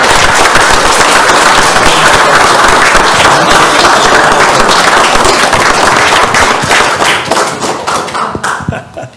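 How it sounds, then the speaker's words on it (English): An audience at a town council meeting claps together in a loud, dense and continuous burst of applause that fades out near the end. "I think we can clap now."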